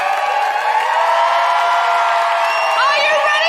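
A live comedy audience in a theatre cheers and whoops loudly, with sustained crowd noise and a few higher shrieks near the end.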